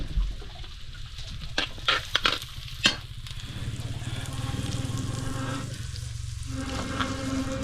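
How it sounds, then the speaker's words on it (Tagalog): Garlic and onion sauté in a pan over a wood fire with a steady, loud sizzle; several sharp clanks of a utensil against the pan stand out early, then the frying carries on evenly with no voices. "Pag pumula ang bawang, sunod na ang sibuyas."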